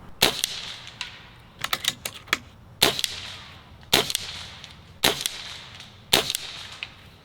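.22 caliber budget airguns, a Barra 1100z and a Beeman Chief II firing pellets at a target, give sharp isolated cracks, single and in quick small clusters, about eight shots spread over several seconds with no talking.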